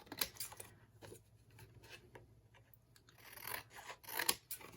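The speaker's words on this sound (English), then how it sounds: "I'm going to cut around this white edge." Scissors snip around the white paper edge of a layered upcycled journal tag, quiet, close, irregular cuts and rustles with short pauses between bursts.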